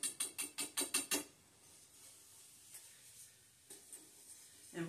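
Beef stroganoff with king blue mushrooms cooks in a pan, opening with a quick run of about seven sharp stirring or scraping hits, then settling into a low, steady sizzle broken by a few soft clinks.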